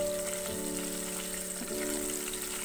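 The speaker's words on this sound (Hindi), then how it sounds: "इसको हल्का सा ऑयल में फ्राई करेंगे ताकि इसका फ्लेवर ऑयल में आ जाए" Spices frying lightly in oil on a medium flame for methi matar malai, a steady soft sizzle under a faint hum.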